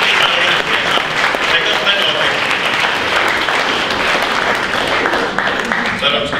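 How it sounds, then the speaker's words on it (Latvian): An audience at an awards ceremony applauds loudly and steadily, a dense, sustained wash of clapping that carries through the whole stretch. "pie kura vajag īpašs aplausus"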